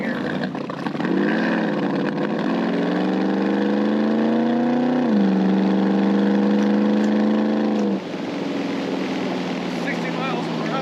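A 350 V8 in a 1923 Ford T-bucket hot rod revs up through a rising gear, drops briefly at a shift, climbs again, then eases off, loud and close throughout with wind noise.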